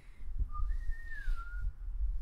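A narrator of a tabletop role-playing game whistles to imitate a low signal whistle in a forest, one short sliding note that rises and then dips, sounding close over faint background rumble.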